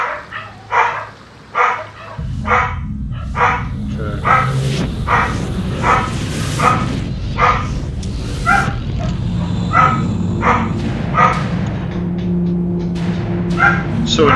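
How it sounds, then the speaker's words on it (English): A couple of household dogs bark and yip repeatedly close by, a steady string of sharp barks over a background of continuous talking and video game sound. "Sorry about my dogs"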